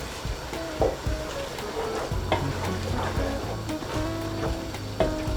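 A spoon stirs cumin powder into a simmering black-eyed bean masala curry, with repeated close scrapes and knocks against the pot over a soft bubbling sizzle.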